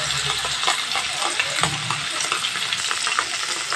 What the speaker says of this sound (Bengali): নুন হলুদ দিয়ে ভেজে নেব